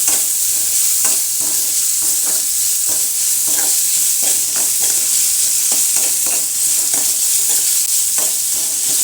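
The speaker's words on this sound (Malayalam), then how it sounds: "അരിഞ്ഞത് ഇട്ട് കേട്ടോ നമുക്ക് പിന്നെ നല്ലോണം ഒന്ന് വഴറ്റി എടുക്കാം" Chopped ginger, green chilli and onion sautéing in a hot pan, a steady loud sizzle with repeated stirring scrapes and clinks throughout, close and without talk.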